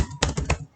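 Several quick keystrokes are typed on a computer keyboard while entering code, a close, crisp cluster of clicks under a second long.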